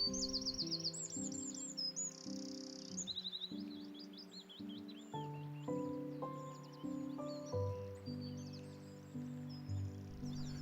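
Birds sing in the gardens of Standen House, a National Trust estate, with clear, varied chirps and warbling phrases, fairly close and alone in a quiet setting.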